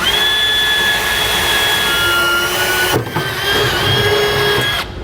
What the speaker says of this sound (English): you're going to want to drill all the way up through the bed